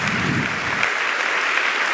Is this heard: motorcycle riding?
no